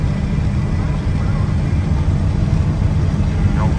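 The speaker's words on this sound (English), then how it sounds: "We're out driving our 87 Chevy K10." A 1987 Chevy K10 square-body pickup truck drives down the road, its steady low engine and road rumble filling the cab continuously at moderate loudness, with faint background radio inside.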